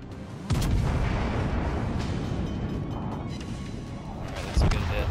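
Battleship guns fire in the naval video game World of Warships: Legends: a loud boom opens a sustained rumbling roar, and a second blast lands a few seconds later.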